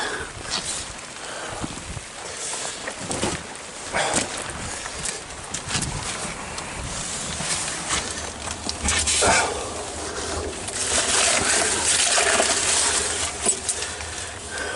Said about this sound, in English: there is some serious runoff through here